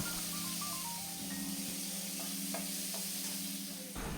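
Masala spice paste with a pinch of sugar being stir-fried in a pan for a dalna curry: a faint, steady sizzle with a few soft scraping stirs and light taps, and no voices.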